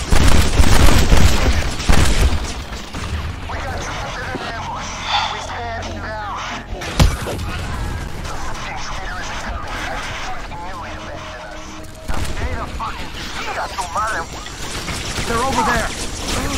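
Gunfire and explosive booms in the action shooter game Kane & Lynch, loud bursts of shots at the start and sporadic blasts later, mixed with game sound effects and character voices talking throughout.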